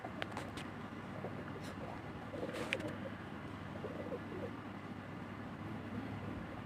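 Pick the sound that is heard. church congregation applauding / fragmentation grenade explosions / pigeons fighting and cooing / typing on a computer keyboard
pigeons fighting and cooing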